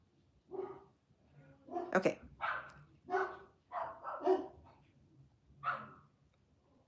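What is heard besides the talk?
dogs barking in the background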